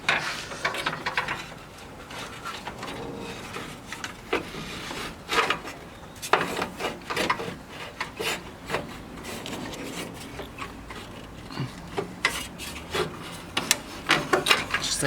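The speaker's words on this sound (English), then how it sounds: "See if we can wiggle this fan out." Plastic scraping, rubbing and knocking as the AC condenser fan is wiggled out of a 2010 Honda Civic, a steady run of close, irregular scuffs and bumps with no talking.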